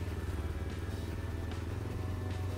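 A Kawasaki Ninja motorcycle runs with a steady, even low engine rumble, close by and continuous, with no speech.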